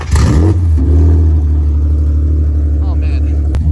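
Infiniti G35 engine with no exhaust fitted revs sharply at the start, then drops to a loud, deep, rough idle that rumbles steadily up close, with brief voices and a clank near the end.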